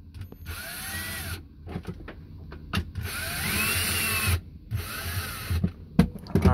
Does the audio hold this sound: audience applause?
no